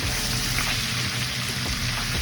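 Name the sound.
ginger stirred into simmering oxtail liquid in pan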